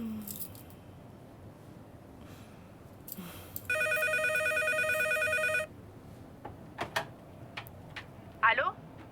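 A telephone rings with a single long electronic burst, clear and fairly loud amid quiet room sounds, with small clicks and a brief squeak afterward.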